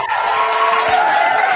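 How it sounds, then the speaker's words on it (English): Steady crowd applause and cheering for a guest on a hip-hop radio podcast, a dense, even wash of claps heard on its own at moderate loudness. "I'm gonna clap it one more time for you, man."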